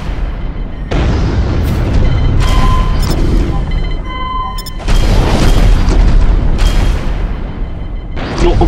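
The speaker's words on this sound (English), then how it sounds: "Missiles on. And missiles away." Missiles launch and explode in the space combat game Infinity Battlescape: loud, repeated booming blasts in bursts, with short electronic beeps and tones between them.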